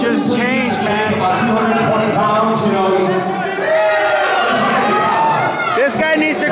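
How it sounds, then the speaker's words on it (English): A dense boxing-arena crowd jeers and shouts at a fighter, a loud, continuous roar of many voices with overlapping commentary talk. "And the crowd really giving it to him, man."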